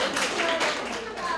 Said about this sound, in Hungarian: nagy tapsot neki is.